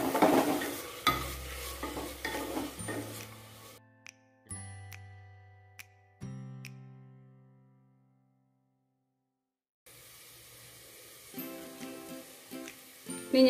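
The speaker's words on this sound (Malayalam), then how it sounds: "അതുകൂടി ഒന്ന് വഴിച്ചെടുക്കണം ഇനി ഇതിലേക്ക് 1 ടീസ്പൂൺ ഇഞ്ചി വെളുത്തുള്ളി പേസ്റ്റ് കൂടി ചേർത്ത് കൊടുക്കാം" Ginger garlic paste is sautéed in a pressure cooker for vegetable pulao. A spoon stirs and clinks against the metal pot over a soft sizzle, with ringing metallic tones and a short silent gap.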